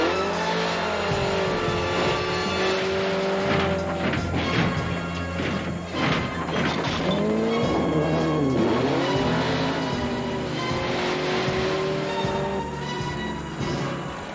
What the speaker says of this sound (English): It's time for a dune buggy chase.